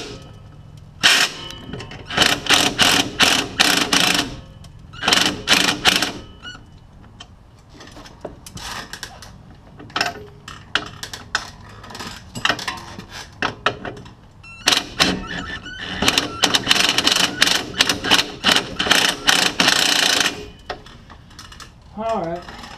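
Top shock mounting bolt being worked out on a Polaris RZR 570 during a lift kit install, heard as two long bursts of rapid clicking ratchet strokes, loud and close, with quieter pauses between.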